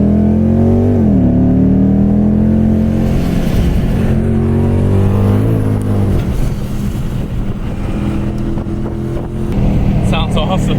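A Lexus F car fitted with an RR Racing supercharger runs on a race track, its engine droning loud and close with rising and falling revs, and a voice briefly heard near the end.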